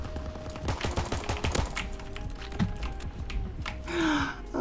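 Rapid pistol gunfire in Call of Duty WWII, a quick burst of sharp cracks clustered near the start, then scattered shots with other game noise through the rest.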